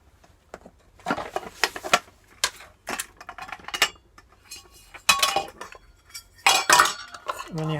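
A metal camping cook set with sporks, bowls, cups, a frying pan and saucepans is handled, giving bursts of close, bright clinks and clatters separated by short quiet gaps.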